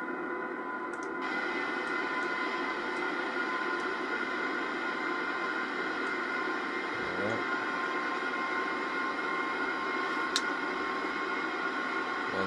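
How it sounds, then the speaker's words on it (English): An ICE high-speed train runs in the Train Simulator 2018 game in Germany, a steady dense rumbling and whirring drone holding at constant loudness with a faint tonal whine throughout. "This train is like powerful."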